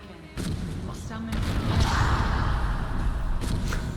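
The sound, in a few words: explosions cast by Atronachs in the video game Skyrim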